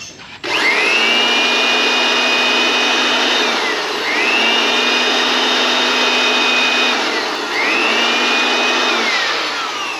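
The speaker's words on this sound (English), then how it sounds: "just put the tip of the blower here and then start blowing" An air blower blows out the oil filter area of a CFMoto 450SR motorcycle during an oil change, giving a loud, steady close-up whine with a falling pitch in three long bursts.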